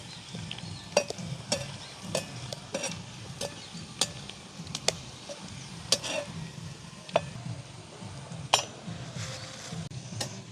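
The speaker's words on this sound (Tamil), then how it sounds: "பார்த்திங்கன்னா பாவக்காய் பொரிஞ்சிட்டது" Bitter gourd stirred in a pan of hot oil while it fries, a steady sizzle with repeated sharp scrapes and clinks of the spoon against the pan at irregular intervals, close by and without speech.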